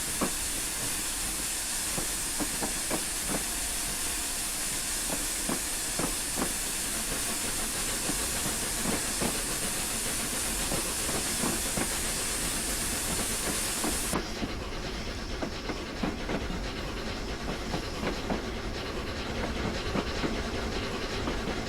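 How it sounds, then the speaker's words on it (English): The black Flying Scotsman, an LNER steam locomotive, runs on the Weardale and Teesdale line in Train Simulator 2015 with a steady roaring hiss and rhythmic rail clatter. The hiss thins partway through, with no voices. "Let's get this big LNER loco flying down the line."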